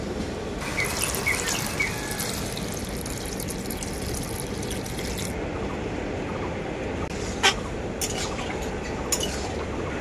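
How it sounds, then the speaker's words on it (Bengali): Water poured into a pan of frying spiced bottle gourd greens (lau shak) gives a bright, hissing sizzle for about five seconds, followed by a few faint clinks of utensils. "এখন এর মধ্যে দিয়ে দেব পরিমাণ মতো জল।"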